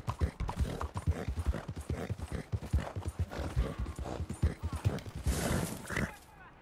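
Rapid rhythmic hoofbeats of a horse galloping in a video game, with steady clip-clop thuds and a brief whinny or breathy snort near the end, under someone talking throughout.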